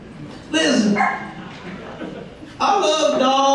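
A stand-up comedian vocally imitating a dog, giving two bursts of yipping, whining barks close up before a live audience.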